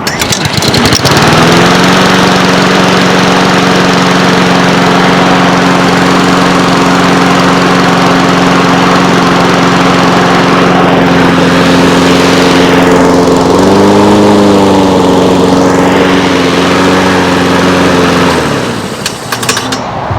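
A small lawn mower engine with an auto choke runs loudly and steadily at close range, its pitch briefly rising mid-run before settling again, then cutting off near the end.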